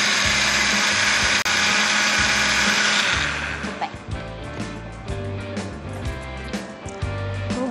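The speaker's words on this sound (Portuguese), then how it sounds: "Então, batendo agora tudo a gente, no liquidificador." A kitchen blender whirs loudly and steadily as it beats churro cake batter with flour, then its pitch drops and the motor labours and pulses as the mixture thickens.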